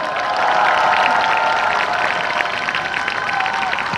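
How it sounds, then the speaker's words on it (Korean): Crowd applause at a Seoul National University students' and alumni rally: a steady, dense wash of clapping and cheering from a large outdoor gathering, loud and continuous throughout. "큰 박수 부탁드립니다"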